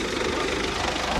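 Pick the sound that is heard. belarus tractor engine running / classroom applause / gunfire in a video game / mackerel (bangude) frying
belarus tractor engine running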